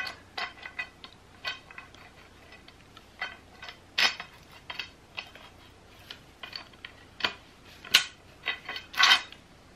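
A metal clamp with flat plates on both sides is handled and taken apart, giving a series of sharp metallic clicks and clinks at irregular intervals. The sounds are close up and fairly crisp, and no one speaks.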